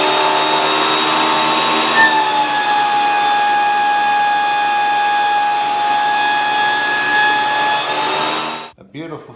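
A Shop Fox W1877 2-horsepower, 15-amp planer runs with a loud, steady whine and hum, then spins down near the end.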